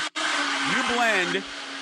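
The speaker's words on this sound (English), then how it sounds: "And the blender is just a fun way to get it all mixed together." A kitchen blender whirs loudly, mixing recipe ingredients in a home kitchen, running steadily for over a second before winding down, with a voice speaking briefly over the motor.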